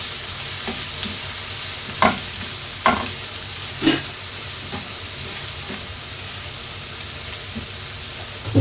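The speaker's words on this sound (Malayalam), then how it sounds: "ഇതിൻ്റെ പച്ചമണം ഒന്ന് പോകുന്നവരെ ഒന്ന് ഇളക്കി കൊടുക്കാം." Masala for a Kerala-style jackfruit seed stir fry sizzles steadily in a pan, with a handful of distinct scraping strokes from stirring spaced a second or so apart.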